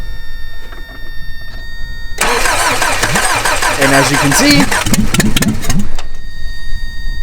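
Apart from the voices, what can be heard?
1986 Toyota 4Runner engine starting and idling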